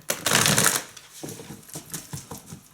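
A dense burst of tarot cards being riffled and shuffled, followed by several lighter taps and flicks of the deck, close and fairly loud.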